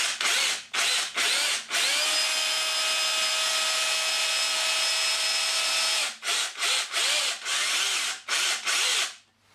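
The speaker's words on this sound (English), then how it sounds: "To start off with, we need to drill the correct sized hole, which in this case is 12mm." A DeWalt drill bores a 12mm hole into soft aerated concrete (Thermolite block) without hammer action, running as one long steady whine between several short bursts, loud and close with no talk.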